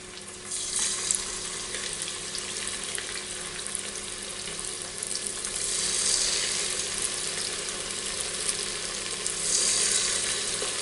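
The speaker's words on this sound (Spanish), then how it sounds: "Y la vamos friendo." Steady crackling sizzle of tempura-battered pork loin strips frying in hot oil, loud and close, with a hiss that swells and eases in waves, no voices.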